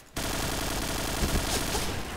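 Dense, continuous burst of automatic gunfire from the shooter game Point Blank, steady and loud for about two seconds with no pause, with a few slightly stronger shots standing out partway through.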